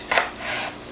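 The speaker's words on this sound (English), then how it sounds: "So we're going to now go ahead and cut up our celery." A knife chops celery on a cutting board, giving a couple of soft, close cuts within a second, with no talk.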